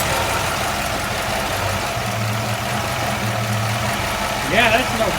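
A 1965 Ford Ranchero V8 idles at a steady low rumble, with exhaust leaking at cylinders 5 and 6, close and continuous, and a brief higher burst of sound near the end.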